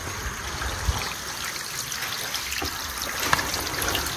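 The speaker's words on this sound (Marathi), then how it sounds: "हे बघा पावसाचं पाणी कशा प्रकारे वाहतंय पायरीवरून" Rainwater trickles and flows down slippery stone steps at Tikona Fort during the monsoon, a steady wet wash with occasional small splashes, fairly close and without voices.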